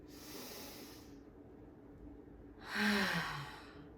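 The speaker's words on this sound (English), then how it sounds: "Inhale through your nose, open your mouth to exhale" A deep cleansing yoga breath: a long, airy inhale through the nose, a pause, then a louder, hissing exhale through the mouth with a slight voiced sigh, close up and alone.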